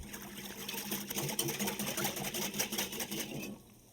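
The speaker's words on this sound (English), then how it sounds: "So I'm just going to use a little whisk." A small whisk beats a chili garlic sauce mixture in a bowl, giving fast, continuous rhythmic clicking and swishing up close at a moderate level before stopping abruptly.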